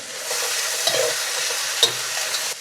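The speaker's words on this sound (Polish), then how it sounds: "jeśli już właśnie te boki zaczynają się tak przyjarawać, dopiero wtedy mieszam." Food sizzles steadily in a hot pan while a utensil scrapes and stirs it a couple of times, up close.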